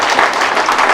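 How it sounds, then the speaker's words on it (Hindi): Loud, close applause from the audience at a live presentation, a steady wash of many hands clapping that continues without a break. "आप सभी के लिए जोरदार तालियां।"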